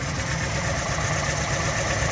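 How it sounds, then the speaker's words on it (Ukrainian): A car engine misfiring at idle, an uneven, stumbling low rumble and vibration, steady and close, no voices. "почав троїти мотор. Звучить отак."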